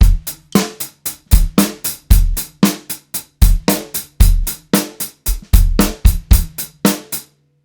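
Closed hi-hat struck in steady eighth notes for a rock beat, every hit at the same even volume with no accents, giving a rigid drum-machine feel; crisp, loud and close, alone with no talking.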